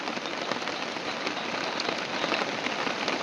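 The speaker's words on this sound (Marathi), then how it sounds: "बघा पाऊस किती" Steady rain pours down, a constant broadband hiss of drops hitting a surface, even and unbroken throughout.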